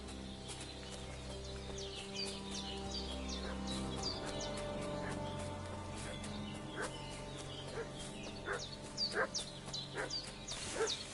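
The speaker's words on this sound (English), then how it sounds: "What's that dog making such a fuss about?" Dog barking repeatedly in the medieval village of the video game Kingdom Come: Deliverance, sharp yips and barks growing louder and busier toward the end over ambient background music and birds.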